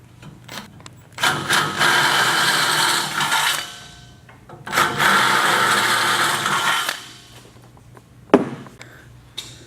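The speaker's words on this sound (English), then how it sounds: "you'll step up your drill bits until you reach 1/2 inch" A power drill boring a hole for a rack bolt, stepping up to a 1/2 inch bit, in two long, grinding bursts of several seconds each, close by, separated by clicks and handling noise.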